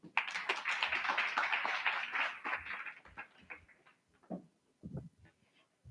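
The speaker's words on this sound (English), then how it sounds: "A big round of applause, please." Scattered audience clapping welcoming a speaker to the stage at a panel event on cancer care, fairly quiet, dense at first and then thinning into a few isolated claps.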